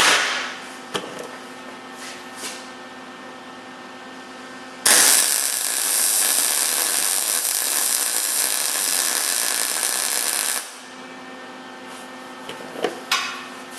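A welder runs a bead during a weld primer test on metal, a steady loud crackling hiss that starts abruptly, holds for about six seconds, then cuts off, framed by quieter shop noise and small clicks.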